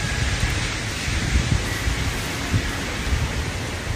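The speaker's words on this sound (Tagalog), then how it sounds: "O dito, lakas-lakas ng ulan." Heavy rain pours down in a steady, loud broadband hiss, with faint low rumbles beneath and no voices.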